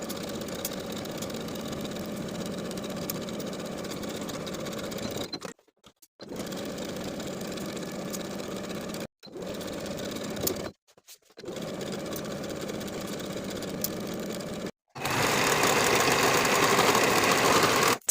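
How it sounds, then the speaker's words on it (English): Sewing machine stitching the side seams and inseam of a pair of overalls, running in several long even bursts broken by brief silent stops, the final stretch faster and louder. "Then we can sew both of the side seams and the entire inseam with a 3/8 inch seam allowance"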